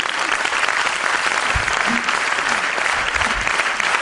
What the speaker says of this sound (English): Clap, guys, it's for you.